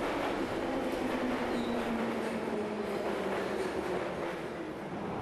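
A subway train runs through an underground tunnel in a dense, continuous rumble and roar with a faint rising whine, heard from close range inside the car with no talk.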